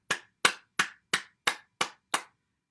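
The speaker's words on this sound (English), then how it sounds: "Clapping." Seven firm, evenly spaced cupped-hand claps against the body during a morning self-massage exercise over the lung and heart channels, each a crisp, close slap followed by silence.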